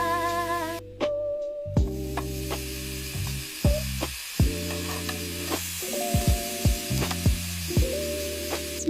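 Kimchi frying in a pan on a snowy winter evening, a steady close sizzle broken up by clinks and stirring scrapes, with soft tonal music in the background.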